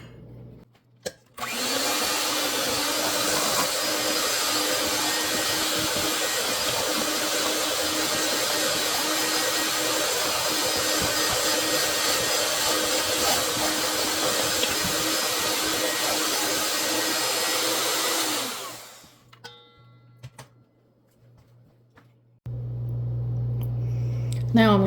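An electric mixer whirs loudly and steadily through a creamy grape salad mixture with vanilla for about seventeen seconds, then winds down and stops, followed by quieter kitchen sounds.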